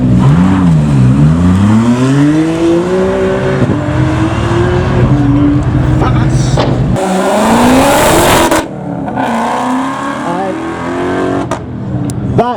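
Ferrari supercars in a cavalcade roar past one after another, engines revving and pitching up and down as they pass close by, with a loud burst and roar midway.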